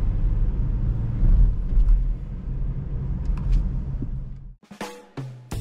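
Engine of a manual car idling and rising under load during a hill start as the clutch comes up with more gas, a close low rumble that swells, eases, then gives way to sharper mechanical clunks near the end.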